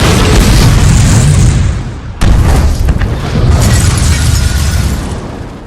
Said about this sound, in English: Shooting this unsuppressed with a break is horrible in literally any situation unless you have double ears.